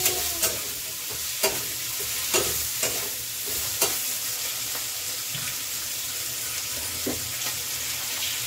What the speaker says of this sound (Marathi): आणि ह्या शेंगा ज्या उकडल्या होत्या त्या आपण यात टाकून घेऊया.